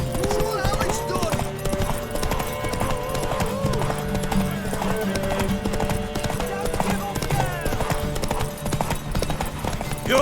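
Horse hooves clip-clop rapidly in The Witcher 3 while a music score plays and voices talk over it, with the hoofbeats steady and mid-distance throughout.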